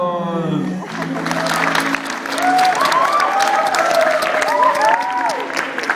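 Audience at a mission gathering in Toronto claps after a group movement exercise, steady applause building and holding with some faint crowd noise after a brief voice at the start.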